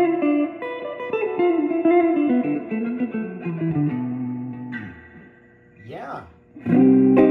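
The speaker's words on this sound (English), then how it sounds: "that's a lot of reverb" An electric guitar plays notes drenched in heavy reverb, each chord ringing into long, washy tails before fading out.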